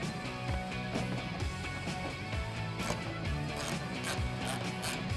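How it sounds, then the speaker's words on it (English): A 10mm ratchet tightening headlight nuts on a 2005-2009 Mustang, rapid clicking pawl bursts repeating in short runs, close and fairly quiet. "Start both nuts. I'm going to take my 10mm ratchet."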